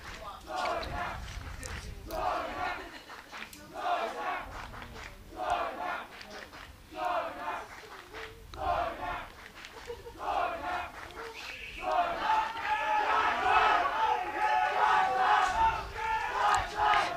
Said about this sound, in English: teammates cheering for her. It's always good to hear teammates cheer for you.